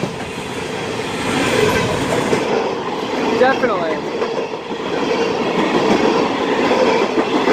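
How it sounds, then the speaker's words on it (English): CSX freight train, E789, speeds past Dorsey station as a loud continuous rumble and clatter of wheels with a brief squeal mid-pass, while people talk nearby over the noise. "This is probably the fastest CSX train I've seen so far."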